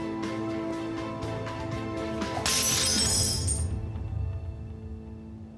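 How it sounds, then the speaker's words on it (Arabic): Glass breaks and shatters in a household scene, a sudden bright crash with tinkling fragments over a steady music bed that then trails off. "عمتي انكسر الإزاز."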